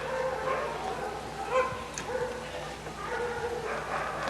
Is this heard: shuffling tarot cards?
no